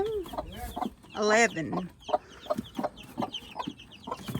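A mother hen clucks and her young chicks cheep in quick, high bursts in a barn while a person talks softly over the birds, close by.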